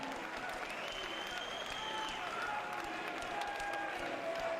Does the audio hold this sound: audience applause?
yes